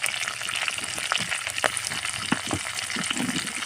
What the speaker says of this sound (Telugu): చక్కగా ఇట్లా పచ్చిమిర్చి కరివేపాకుని ఒకసారి వేగనియాలి